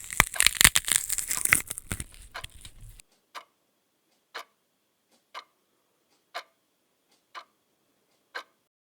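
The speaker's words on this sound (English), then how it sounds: "the clock ticking away before there was a sudden" A clock ticks alone in silence, with single evenly spaced ticks about once per second, after a dense, loud crunching and crumpling burst at the start.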